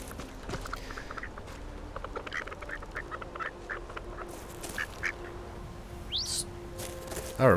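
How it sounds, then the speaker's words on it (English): Ducks quacking in the video game Skyrim, scattered soft calls and a few sharper quacks over a low, steady ambient hum, with a louder honk near the end. "I remember these ducks."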